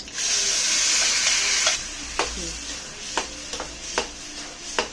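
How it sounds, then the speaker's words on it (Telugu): Onion chutney with curry leaves and chili powder frying in a pan, a steady close sizzle for nearly two seconds that then settles into quieter frying punctuated by several sharp scraping stirs of a spoon against the pan. "వేసి ఒక 5 నిమిషాల పైనే బాగా వేగనివ్వాలి"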